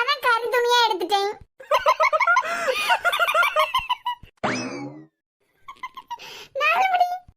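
Person vocally imitating a sick chicken, making a string of wavering, squeaky clucking and croaking noises in several bursts with short gaps between them, close and fairly loud.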